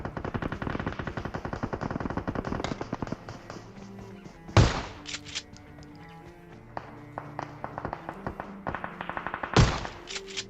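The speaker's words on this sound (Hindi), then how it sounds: "जहाँ पर फायरिंग हो रही है" Rapid automatic gunfire in PUBG Mobile, dense bursts of sharp shots rattling in quick succession, broken by a couple of louder booming blasts and brief pauses, with a faint voice underneath.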